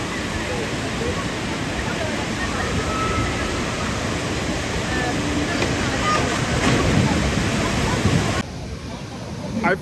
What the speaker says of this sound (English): That is the wettest log flume